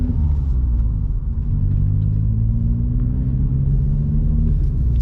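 Vauxhall Corsa car slowly accelerating, a continuous low engine rumble and road drone heard from inside the cabin, steady and loud with a gentle rise in pitch.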